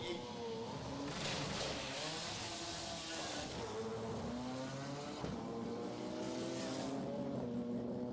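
A drag race car accelerates hard down the strip, its engine note climbing and dropping as it shifts through the gears, heard at a distance over a steady crowd and track ambience.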